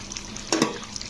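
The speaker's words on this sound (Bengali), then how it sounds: "ঢাকাটা খুলে একটু নাড়াচাড়া করে দিচ্ছি।" Ridge gourd and potato are stirred in an uncovered pan with two quick, close scrapes against a soft sizzling background.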